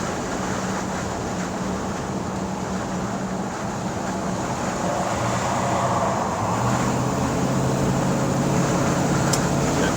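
A 1957 Ford Thunderbird accelerates on the road, its engine drone and road rumble steady and fairly loud, the engine note rising in pitch partway through as it gathers speed, with wind noise throughout and no talking.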